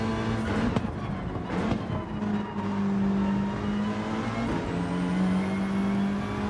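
A Volkswagen Scirocco race car in Gran Turismo 7, its engine droning and rising in pitch as it accelerates, with a few brief bumps and whooshes along the way.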